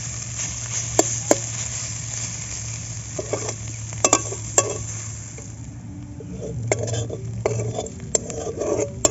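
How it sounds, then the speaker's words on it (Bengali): Boiled mustard greens frying in a pan give a low steady sizzle under intermittent sharp clinks and scrapes of a utensil against the pan, close and fairly quiet. "আমার শাক সিদ্ধ হয়ে গেছে। আমি আরেকটু ভেজে নেব।"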